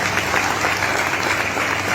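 An audience at a lifestyle leadership talk breaks into dense, loud, continuous applause from many hands, steady throughout.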